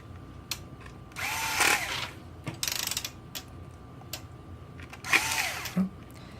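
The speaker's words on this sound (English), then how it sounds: "And let's put those last 2 screws in." A small electric screwdriver drives the last two screws into a Uniden TCX905 radio, making two short whirring bursts with clicks and handling noise between them, close and fairly quiet.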